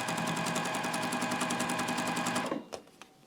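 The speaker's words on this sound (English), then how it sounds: "Just going to hold it in place, get a couple stitches down, line up the rest, and then keep sewing" A sewing machine stitches a fabric seam in one loud, close, rapid run, its fast rhythmic chatter stopping abruptly near the end, followed by a couple of faint clicks.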